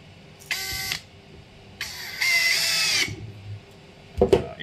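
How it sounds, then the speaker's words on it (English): A power screwdriver whirs in short bursts while screws are driven into a Tesla Model 3/Y subwoofer adapter, with two brief runs and one longer run, followed by a clatter at the end. "So just let me continue with the screwing."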